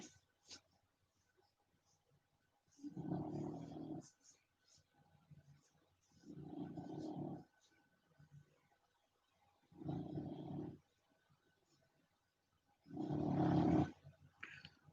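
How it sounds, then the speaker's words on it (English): A bulldog snores nearby in four deep, rasping, throaty breaths spaced about three seconds apart, fairly loud against a quiet room. "Y'all forgive me if y'all hear my bulldog snoring."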